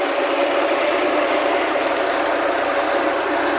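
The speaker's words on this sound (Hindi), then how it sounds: "ये देख सकते हो आप लोग, ट्रैक्टर चालू हो गया।" A tractor engine runs steadily after starting, a loud continuous rumble with a constant mid-pitched hum and vibration, close by and with no voices over it.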